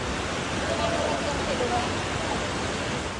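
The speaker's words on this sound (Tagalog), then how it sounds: "Malakas din ang agos ng baha sa Purok" Strong current of floodwater rushing through Purok 5, Barangay Sevilla, San Fernando City, La Union, during heavy rain; a steady, dense broadband roar holds at the same level throughout, close and continuous.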